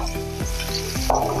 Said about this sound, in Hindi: थोड़ी देर इसको भूनेंगे।